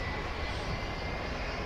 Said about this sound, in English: We've got Delta Flight 2796 taking off to Salt Lake City